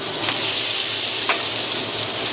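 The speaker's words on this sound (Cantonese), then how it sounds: "放咗蒜蓉落去先" Minced garlic sizzles loudly in a hot wok, a steady close crackling hiss with brief stirring scrapes, no voices.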